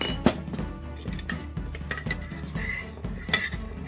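Pork fillet char siu marinade with rose wine and fish sauce being stirred in a bowl, a utensil clinking and scraping against the sides in quick, irregular taps, close and fairly loud.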